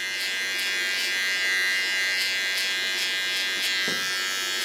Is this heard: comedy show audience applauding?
no